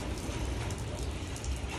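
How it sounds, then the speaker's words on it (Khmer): Heavy rain falling steadily, a thick, continuous roar of drops striking surfaces nearby, loud and unbroken throughout the short stretch with no talking. "នៅតែភ្លៀងមកខ្លាំងដែរ"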